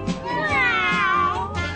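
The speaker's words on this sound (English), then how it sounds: "I heard my cat meow." A cat meows in a drawn-out, wavering call lasting under two seconds, loud and close, with a faint low background under it.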